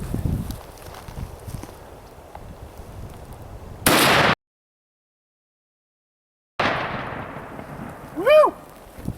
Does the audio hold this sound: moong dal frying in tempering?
no